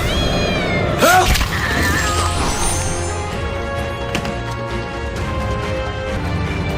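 A cat lets out a couple of loud, drawn-out meows near the start, then the sound settles into quieter background noise with a few faint sharp knocks.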